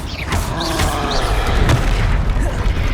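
Spell blasts from the Confringo fire spell in Hogwarts Legacy boom in quick succession with mechanical clatter, loud and close, over steady game noise and a voice in the background.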